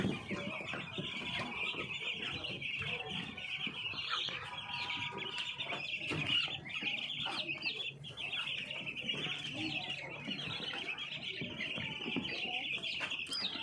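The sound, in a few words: chickens clucking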